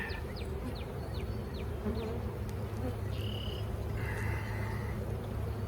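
Honey bees buzz steadily around an open hive during an inspection of a soybean-field colony, a low continuous drone with a few sharp chirps and whines rising over it.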